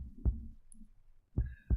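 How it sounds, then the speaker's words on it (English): Pounding heartbeat as a sound effect: three deep, close thumps in a slow, uneven rhythm, with quiet between them. "I can feel my heart pounding against my chest"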